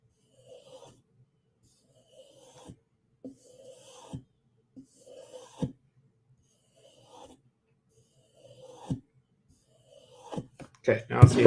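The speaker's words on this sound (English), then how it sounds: "You can maintain a sharp edge by stropping." Knife edge stropped on a strop loaded with diamond emulsion, soft rhythmic rasping strokes repeated about eight times at close range, faint and spaced, growing louder and more clustered at the end.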